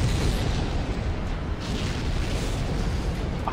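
An explosion in the sci-fi horror game Dead Space 3 booms loudly at the start, then its rumbling blast decays into a sustained, dense roar for several seconds.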